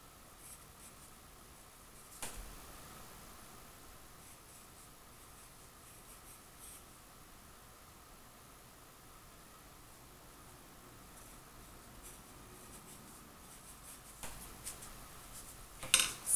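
A pencil draws on paper for a flag of Israel, a quiet, continuous scratching that runs throughout, broken by a few light taps and clicks, louder at the very end.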